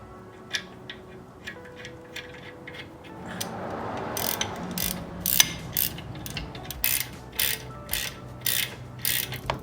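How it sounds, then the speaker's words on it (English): Torque wrench ratcheting while tightening brake caliper bolts on a Mk7 GTI, a series of close, sharp mechanical clicks and ratchet bursts, quiet at first and growing louder and more regular toward the end, with no voices. "Always be sure to torque your bolts."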